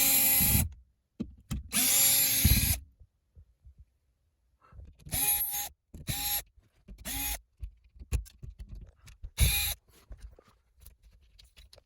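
A power drill backs bolts out of a wall during a closet install, loud whirring bursts of a few seconds each, then several shorter spurts with quiet pauses between, close by.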